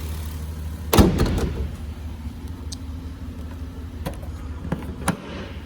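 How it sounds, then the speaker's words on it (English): A single heavy metallic slam of a 2010 Jeep Wrangler Unlimited Rubicon's hood closing rings out near the start, over a steady idling engine, followed by a few lighter clicks and knocks. "Get this hood buttoned up."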